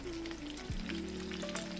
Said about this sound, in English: Place your potatoes in a frying pan with oil and fry on both sides until they are crispy.